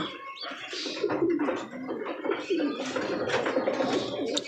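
Red checker pigeon chicks cooing softly in a loft, a steady run of low murmuring coos with some faint chirps layered over background bird noise.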